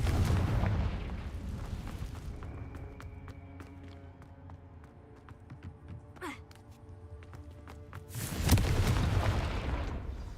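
A Confringo explosion spell in a video game goes off as a heavy, rumbling blast that opens the clip, followed by a quieter stretch with scattered clicks and a whoosh. A second loud boom comes near the end.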